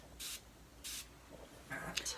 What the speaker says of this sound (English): The facial spray